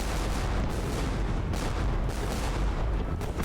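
Cannon round shot fires in a naval battle at Trafalgar involving HMS Victory, heard as a dense, loud barrage of deep booms and rumbling blasts with no break.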